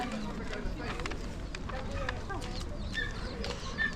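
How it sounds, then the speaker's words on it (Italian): Hens cluck at the San Martino animal fair in Piazzola sul Brenta, soft scattered clucks and calls heard faintly under a busy crowd and nearby talk. "Guardate queste galline che meravigliose."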